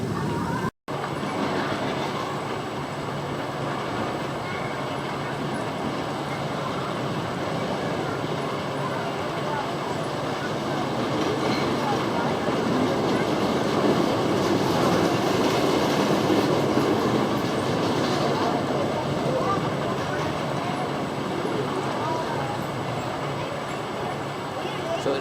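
Big Dipper, an old wooden roller coaster at Camden Park, Huntington, with its train rolling along the track toward the brake run, a continuous rattling rumble with clacking wheels, steady and fairly close, with voices talking over it.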